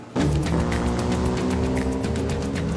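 A classic Jaguar XKSS with a 3.4-litre straight-six roars loud and close under acceleration, a dense, steady engine growl with layered harmonics that barely lets up.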